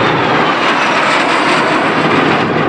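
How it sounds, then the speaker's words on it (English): A Lockheed-built trainer airplane passes at an air show, its engine a loud, steady, broadband roar filling the whole stretch with no pause. "Airplane just passing in front of you was a trainer built by the Lockheed Company"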